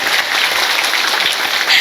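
A crowd at an Islamic religious gathering claps steadily in a dense, even patter of applause, fairly loud and close.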